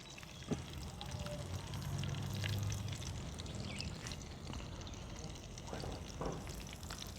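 Whole peppercorns, cinnamon, cloves and bay leaf pieces fry in oil in a kadai with a soft, quiet sizzle and light crackle, fairly faint and without talk.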